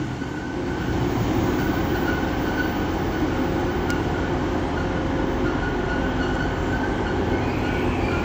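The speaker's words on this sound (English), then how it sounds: "over here is a class 195, or pairing 195019 and 195010 running from Leeds to Chester" Class 195 diesel multiple unit trains sit at Manchester Victoria station, pairing 195019 and 195010 on a Leeds to Chester run, giving a loud, steady diesel rumble and hum with rail noise throughout, no talk.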